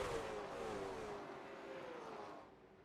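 Late model stock cars race around Hickory in the iRacing sim, a faint engine note whining and gradually dropping in pitch as the cars pass and fade into the distance.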